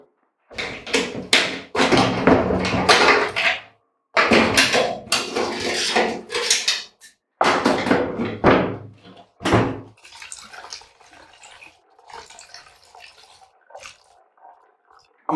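Soaking liquid is dumped out of a fuel tank being restored, sloshing and splashing in several loud pours separated by short pauses, then trailing off into quieter drips and trickles.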